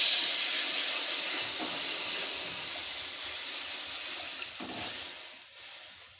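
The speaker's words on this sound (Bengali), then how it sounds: "আমি ওই দুধটা এর মধ্যে ঢেলে দিলাম।" Milk poured into a hot pan where ghee-fried ingredients were just cooking, a loud hissing rush at the start that fades gradually into a softer simmer.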